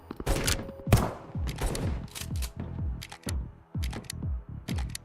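Rapid shotgun blasts in a video game, a dozen or more loud sharp shots fired in quick succession with brief mechanical reloading clicks between them.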